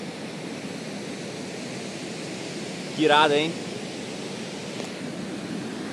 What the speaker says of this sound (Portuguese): O barulho da água caindo é ensurdecedor.